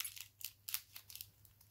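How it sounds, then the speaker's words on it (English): Scissors snip repeatedly through a packed shipping package, a quick series of close crisp cuts with small crinkles of packaging between them. "give this a nice little snip here"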